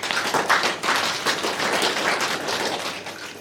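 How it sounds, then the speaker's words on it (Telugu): An audience at a spiritual discourse claps for a woman, a steady patter of many hands sustained throughout at moderate volume with no talk over it. "ఒకసారి ఆ అమ్మకి సార్ క్లాప్స్ ఇవ్వండి."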